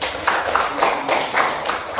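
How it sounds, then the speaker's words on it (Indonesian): Classroom applause for a student, a steady patter of many hands clapping with uneven bursts, close and fairly loud with no talk over it. "Kan tepuk tangan Raffi dulu"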